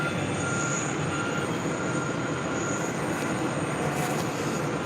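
A Korean Air airliner landing at JFK airport gives a steady, broad engine roar and rushing wind noise that stays loud and constant throughout, with no voices.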